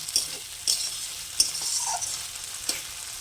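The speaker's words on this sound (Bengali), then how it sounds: "আমি একটা টমেটো কেটে রেখেছিলাম, ওটাও দিয়ে দেবো। দিয়ে ভালো করে কষিয়ে নেব যতক্ষণ না টমেটোটা নরম হয়।" Chopped tomato being sautéed in a pan for Bengali rui fish rezala, with a steady soft sizzle under several sharp scrapes and stirs of a spatula against the pan, no talking.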